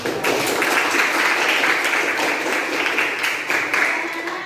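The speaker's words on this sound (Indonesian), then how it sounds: "ya kasih tepuk tangan." Classroom applause from students after a lesson on fantasy narrative texts, a steady dense patter of many hands clapping at a fairly loud, even level throughout.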